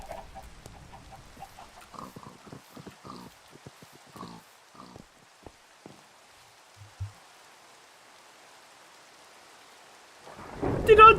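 A thunderstorm in the video game Minecraft, with faint scattered sounds early on, then a deep rolling thunder crash swelling loudly at the very end, no talking.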